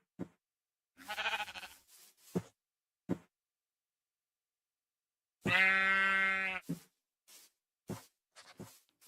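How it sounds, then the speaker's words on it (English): Sheep in the Minecraft video game bleat in short bursts, with one long wavering baa standing out midway, separated by silence and a few brief clicks. "Look, a sheep."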